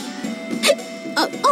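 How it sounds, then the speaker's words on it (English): A Tales of Xillia character hiccuping, three short voiced hiccups spaced evenly over a faint background hum, close and clear. "My, acute hiccup disorder."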